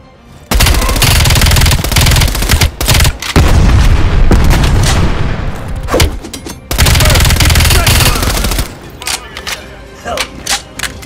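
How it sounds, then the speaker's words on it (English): Grenade blast and heavy gunfire in Call of Duty: Black Ops Cold War at Mount Yamantau near an elevator to a control tower, loud dense bursts of shooting and booms with brief gaps throughout, voices calling out in between. "Grenade!"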